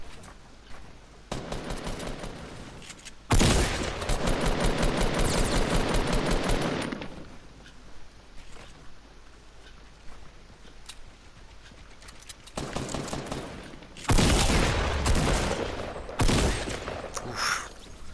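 Rapid automatic gunfire in a Fortnite Battle Royale solo match, with a long sustained burst and then shorter volleys separated by quieter gaps, loud and close.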